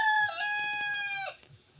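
A farmyard rooster gives one close, loud crow that holds steady, then cuts off, followed by a few soft clucks nearby.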